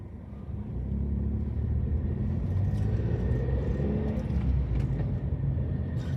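A car driving through the residential back streets of Blackpool, with a steady low engine and road rumble heard from inside the car, continuous and even throughout.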